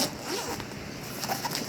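A zipper is pulled open on a 36-inch Condor single rifle bag, a continuous scratchy rasp lasting under two seconds, close and fairly quiet, with no talking.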